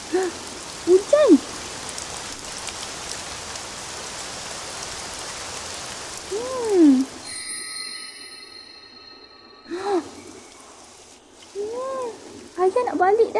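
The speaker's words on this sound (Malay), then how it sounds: "Hujan." Steady rain falls across the whole stretch as a soft even hiss, with children's voices speaking over it at several points.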